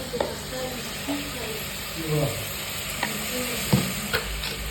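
Potatoes and peas cooking in hot oil with salt and turmeric for a Gujarati vegetable dish, a close, continuous sizzle broken by a few sharp stirring knocks and scrapes.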